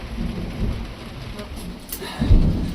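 Rain drumming on a solar-powered yacht during a lightning storm, a steady patter with a low rumble swelling near the end, close and fairly loud.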